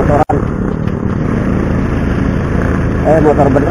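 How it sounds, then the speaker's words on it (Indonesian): A motorcycle engine drones steadily at close range throughout, with a brief dropout near the start and people talking over the rumble. "Motor beneran ya, tak bukan motor-motoran."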